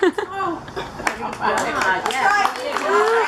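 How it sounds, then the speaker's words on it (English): Hands clap amid laughter and chuckles at a wedding shower, quick scattered claps close by, mixed with voices talking and giggling throughout. "Applause."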